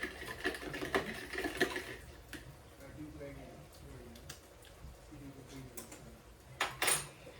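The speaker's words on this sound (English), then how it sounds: "So I'm whisking it together." A sauce of brown sugar and mirin being whisked in a bowl: quick rhythmic clinking strokes for about two seconds, then quieter scraping with a few sharp taps near the end.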